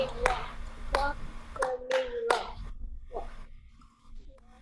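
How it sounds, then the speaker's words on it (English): Hands clapping a walk-running rhythm in a music performance seminar, several sharp nearby claps in an uneven short-long pattern, with quieter sounds trailing off at the end. "let's clap the rhythm."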